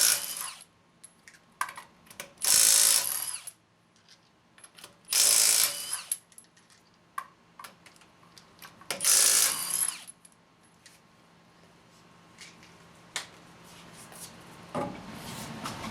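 Hand ratchet wrench breaking loose the front shock bolts on a 2002 Toyota Tacoma standard cab, three loud close bursts of rapid pawl clicking between quieter single clicks and tool handling.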